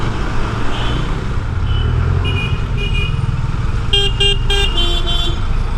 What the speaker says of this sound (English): These are the congested roads of Kolkata.